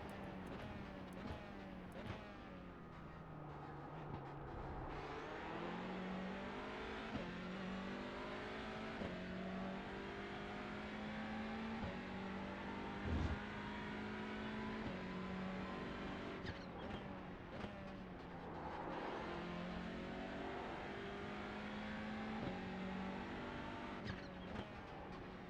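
Race car engines in a racing video game drone and rev steadily for the whole stretch, pitch rising and falling with shifts, loud and continuous with no talk.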